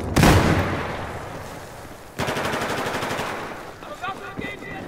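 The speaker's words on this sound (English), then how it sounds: "The AWS has to be pretty good machine gun, to be honest, because it's been wrecking." AWS machine gun firing in Battlefield 4, a sharp loud opening burst followed by a second sustained stretch of rapid automatic fire, with fainter rattling shots at the end.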